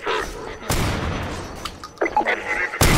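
Loud shots crack in a horror-themed video game, with several bursts spread across a few seconds amid noisy in-game ambience.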